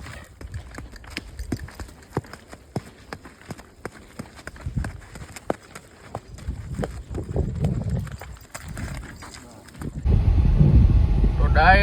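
Hooves of a Kathiyawadi horse named Sultan clip-clopping at a run after a jump, heading home, with sharp rhythmic strikes, wind noise and occasional voices, ending in loud rushing wind.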